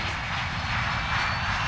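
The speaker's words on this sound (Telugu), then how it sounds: "ఫ్లైట్ బయలుదేరింది" A cartoon airplane takes off with a loud, steady engine roar that fills the short moment without letting up.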